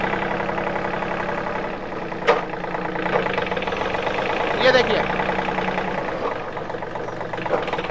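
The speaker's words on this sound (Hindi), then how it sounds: "और ये आपका ट्रैक्टर चालू हो गया" A John Deere 3028EN mini tractor's engine runs with a steady, rumbling idle, under someone speaking close by, with a few brief clanks.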